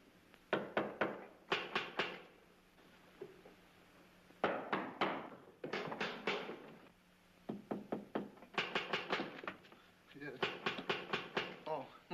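Several men rap their knuckles on walls, looking for trap doors, in quick clustered knocking bursts separated by short pauses, with some muffled talk in between.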